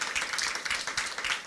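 A church congregation applauding, a steady wash of many hands clapping at moderate volume, slightly distant and continuous.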